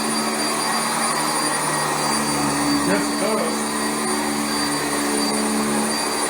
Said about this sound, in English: this vacuum really lifts the carpets